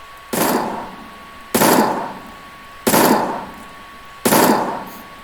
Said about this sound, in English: And then lastly, the assault rifle.